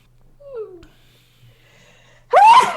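After a quiet stretch with a faint voice, a single loud, abrupt sneeze bursts out close by near the end.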